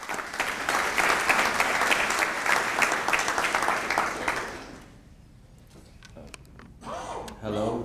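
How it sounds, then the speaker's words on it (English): Audience applause for students at a school district breakfast awards event, loud and dense for about four seconds, then fading into quiet room noise before a voice begins speaking near the end. "Please give them a round of applause"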